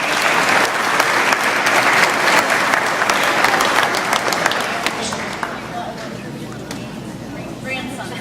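Sustained applause from an outdoor crowd at a 1962 time capsule opening in Cuyahoga Falls, honoring a family. Dense, steady clapping with some crowd murmur runs throughout and eases slightly toward the end.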